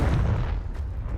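A blazing Confringo fire spell blast from Hogwarts Legacy bursts out as a loud, low booming rumble that fills the brief moment on its own.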